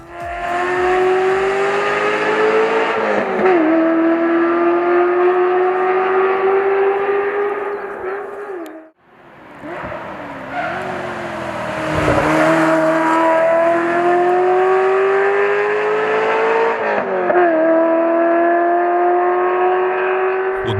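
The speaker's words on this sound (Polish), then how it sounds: "Dźwięk silnika to czysta poezja. Ta V8 brzmiała rasowo, ostro, tak jak tylko Ferrari potrafi." A 1990s Ferrari V8 revs loudly and close by in two long sustained pulls with rising and falling pitch, a brief cut between them, and gear-change dips along the way.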